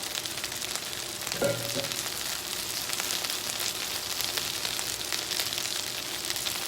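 Meat frying in butter or fat in a pan for gluten- and dairy-free beef stroganoff, a steady broadband sizzle running throughout at moderate level, with a brief clunk of the pan partway through and no talking.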